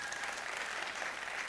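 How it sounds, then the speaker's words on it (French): A festival audience claps together in a steady wash of applause, dense and even, heard from some distance for a brief moment. "On applaudit ensemble, s'il vous plaît."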